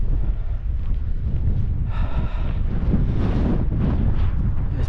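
Strong wind on a hilltop at an Iron Age hill fort, a loud continuous roar buffeting the microphone with gusts swelling throughout, no voices.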